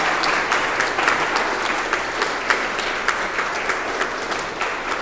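Wedding guests give the couple a big round of applause at the ceremony, loud sustained clapping from a crowd with a few sharper individual claps standing out, continuing without pause.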